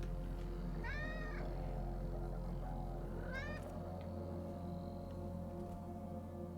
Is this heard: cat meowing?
yes